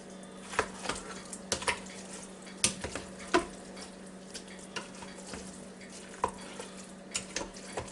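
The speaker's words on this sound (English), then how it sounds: "I'm going to see if I can't give it a little stir here" Turkey vegetable soup being stirred in a Ninja Foodi Deluxe pot: a utensil scrapes and clinks against the pot at irregular intervals over a soft bubbling sizzle, close and fairly quiet.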